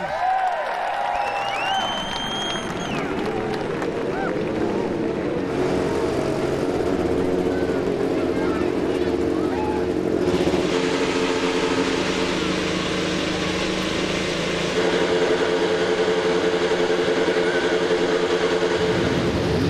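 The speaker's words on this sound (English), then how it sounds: "Drivers, start your engine!" IndyCar race car engines fire up on the grid at the 2015 Pocono 500, rising whines swelling into a loud, layered, sustained roar with crowd noise behind.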